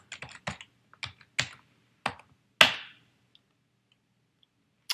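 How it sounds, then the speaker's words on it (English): Keys on a Mac keyboard tapped while entering a password: about eight close, crisp keystrokes in short irregular bursts, the last one a louder clack, with quiet gaps between and no voices. "You will not see your password pop up as you type it in."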